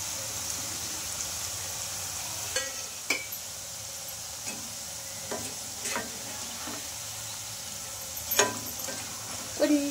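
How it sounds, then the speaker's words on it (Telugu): Potato chips fry in hot oil with a soft, continuous sizzle that stays low and steady, broken now and then by faint clicks and light stirring taps. "బాగా క్రిస్పీగా అయ్యే వరకు ఫ్రై చేసుకోవాలి ఈ చిప్స్ని"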